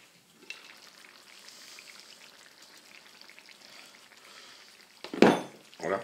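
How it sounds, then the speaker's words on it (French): Homemade venison stew simmers in a pot, a faint, steady bubbling hiss, then a couple of louder clattering pot or lid knocks near the end. "ça fait 1h30 que ça mijote"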